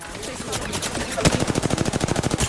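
Rapid automatic gunfire in Apex Legends, a dense burst of evenly spaced loud shots that starts with a sharp crack and keeps rattling fast and close to the end.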